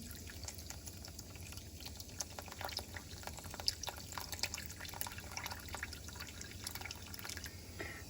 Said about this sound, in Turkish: Şimdi de üzerine şöyle çok sıcak olmayan ama e, çok ılık da olmayan bir su koyuyorum.